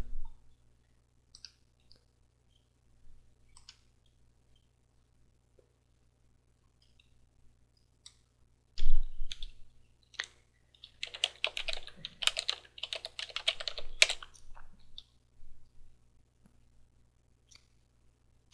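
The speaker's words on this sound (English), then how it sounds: "Type in a few commands." Typing on a computer keyboard to enter terminal commands: a few scattered key clicks, then a dense burst of rapid keystrokes lasting several seconds, close and clear in a quiet room with no talking.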